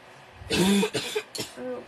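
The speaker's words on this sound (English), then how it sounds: "That cough." A single close cough, a harsh burst followed by a second shorter hack and a faint throaty tail, loud and alone with no talking over it.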